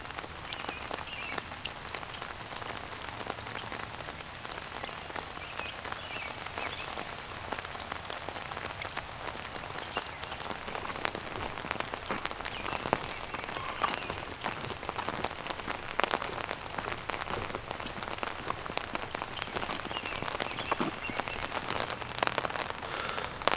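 Steady rain falling outdoors, a dense patter of drops striking surfaces at moderate distance, continuous and even throughout with no voices.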